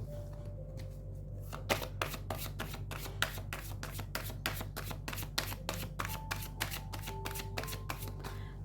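Tarot cards shuffled close by with a fast, even run of crisp riffling snaps over a low steady hum, continuing with no talk.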